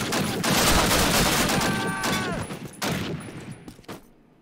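Loud, sustained gunfire from the 2003 video game Call of Duty during the Operation Overlord mission, with overlapping shots in a dense volley that slowly thins out and fades near the end.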